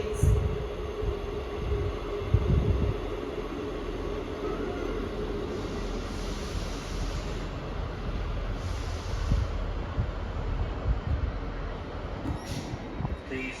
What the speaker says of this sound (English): The train arriving at platform 2 is the 10:49 service to Perth.